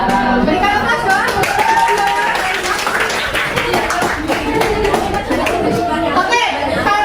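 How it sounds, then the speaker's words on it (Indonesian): Classroom audience applause after a student group presentation, a steady mass of hand clapping that holds for several seconds, with students chattering and talking underneath. "Berikan aplaus dong."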